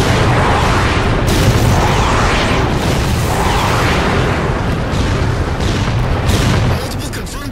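Missile strike explosions slam down on Phantom dropships in Halo Spartan Ops, a dense, continuous roar of booming blasts layered over one another, loud and close, with a voice speaking through the barrage.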